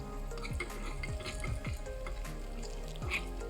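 Crushed garlic, cumin and mustard seeds sizzling in hot oil in a pan while cooking fenugreek-leaf dal, a steady crackling fry with stirring scrapes and a few sharp pops, close and continuous with no talk.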